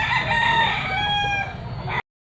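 A Sweater-bloodline gamefowl rooster crows once, a loud, near, drawn-out call lasting about two seconds that stops abruptly, over light crowd murmur at a pet market.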